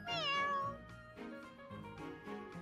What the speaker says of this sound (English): it actually had someone voice the cat instead of using like some sort of like sound effect